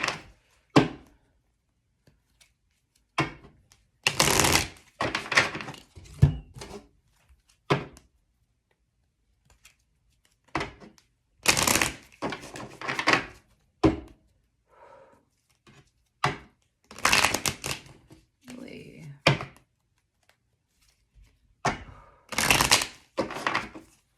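Tarot cards being shuffled by hand, heard as bursts of riffling and soft thumps of the deck against a surface, separated by short pauses, close and alone.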